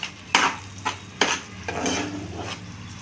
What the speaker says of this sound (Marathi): हे पण चांगलं परतून घेऊया।